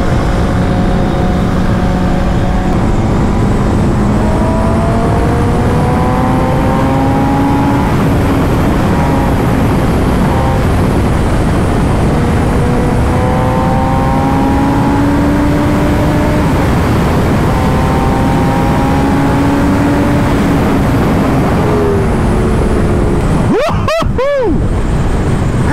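A motorcycle cruises along the Lahore Ring Road highway, its engine a loud, close, continuous drone mixed with wind rush, the pitch rising and falling gently, with a brief sharp burst near the end.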